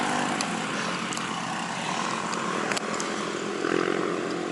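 Many motorcycles pass on a road during a long-distance bicycle ride near Antipolo, their engines a steady, fairly close drone that rises and swells as they go by, with no talk.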